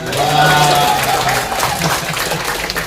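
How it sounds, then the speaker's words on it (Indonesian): Churchgoers at a Protestant Christian spiritual seminar applaud Pastor Simajuntak with a short, loud burst of many hands clapping, close and continuous across a few seconds, with some voices mixed in underneath. "Tepuk tangan dulu untuk Amang Pendeta Simajuntak"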